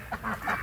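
Pekin ducks in wet weather give a few quick honking calls, moderately close, in a brief burst of two or three notes.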